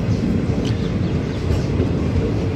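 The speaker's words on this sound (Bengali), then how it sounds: "Jaipur Jaisalmer লীলন express আসলপুর জবনের railway station কো ক্রস করতে হুই" The Jaipur-Jaisalmer Leelan Express passing through Asalpur Jobner railway station, a dense, loud low rumble that holds steady throughout, with wind buffeting the microphone and no talk.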